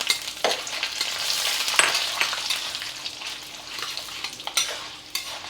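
Cashews and dried red chilies frying on a low flame for idli upma, a steady close sizzle with occasional stirring scrapes and soft clinks throughout, no talking.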